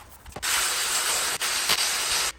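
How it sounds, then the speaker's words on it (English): A spray bottle of carpet cleaning solution hisses in one long, steady close burst of about two seconds, after a couple of quick pumps, while a carpet is prepped for extraction with a Hoover Spotless or Bissell Little Green Pet Pro. "So I'm gonna spray this down, go over it with the drill brush again, and then we are going to extract"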